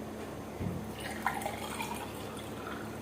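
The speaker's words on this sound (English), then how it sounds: "So just add water, just the way I'm going to be showing you right now." Water is poured into apple cider vinegar in a clear cup, making a short, soft trickle and a few gentle splashes against quiet room noise.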